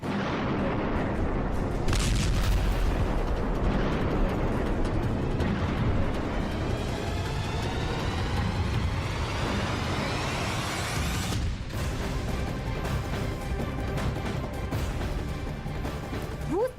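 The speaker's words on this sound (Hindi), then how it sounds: "कीव पर मिसाइल से अटैक किया है, जिससे कीव के कई इलाकों में मिसाइल गिरी है" Missile strikes hit Kyiv, heavy explosions and rumbling booms with crashing debris and a rising whine, loud and sustained over a roaring background.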